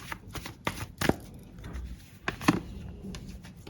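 A deck of tarot cards being shuffled at close range, with two sharp riffle bursts separated by softer sliding and rustling, and no talking.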